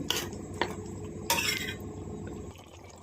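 A spoon scraping and knocking against a pot while stirring a drumstick, tomato and carrot curry, with a few sharp metallic clinks over a faint simmer, close and alone without talk.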